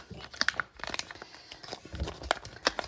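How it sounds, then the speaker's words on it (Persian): Scissors cutting through plastic toy packaging during an unboxing, a series of close crisp snips and crinkles in irregular bursts, with brief rustling between cuts and no speech. "بذارید با قیچی ببرم."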